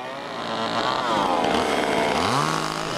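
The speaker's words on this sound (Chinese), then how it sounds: "所以特别用锯子锯斜" A motorized saw slices the ends of firewood logs at a slant in a Jiaping village, a loud, continuous close-up engine whine that rises and falls in pitch as the blade bites.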